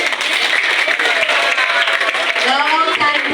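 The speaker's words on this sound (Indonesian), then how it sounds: "Tepuk tangan dulu." A school audience claps at a motivational talk, honoring an education pioneer, a moderate burst of clapping with voices and cheering layered over it throughout.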